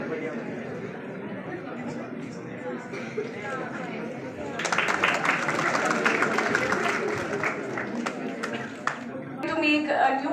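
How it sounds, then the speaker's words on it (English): An audience at a school youth parliament prize distribution breaks into loud, sustained clapping, with chatter in the crowd before and under it. "Give them a huge round of applause."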